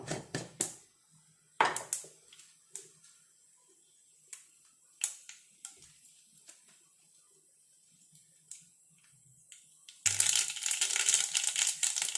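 A spoonful of mustard seeds popping in two spoons of hot coconut oil: sparse, sharp crackling pops scattered through a quiet pan, ending in a sudden loud burst of steady sizzling.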